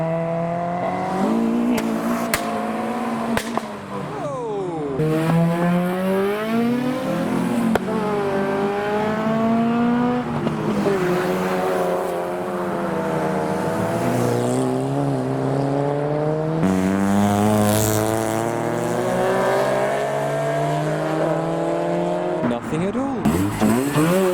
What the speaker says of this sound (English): a few more cars are now leaving the show, being as noisy as they can